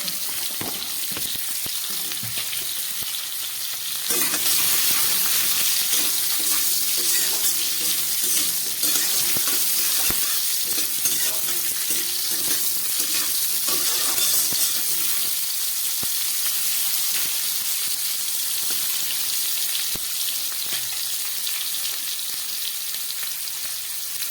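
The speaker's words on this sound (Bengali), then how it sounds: "পটল আর আলুগুলোকে একটু ভেজে নিচ্ছি।" Pointed gourd (potol) and potato pieces frying in oil in a pan, a loud continuous sizzle with occasional stirring scrapes, growing denser partway through.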